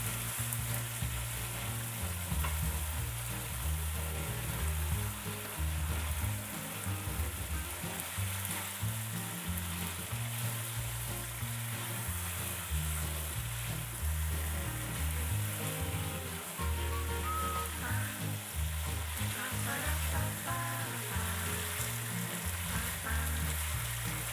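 Fish curry with masala being stirred in a frying pan: a continuous dense sizzle and crackle of hot oil, steady and close, with faint scraping from the stirring.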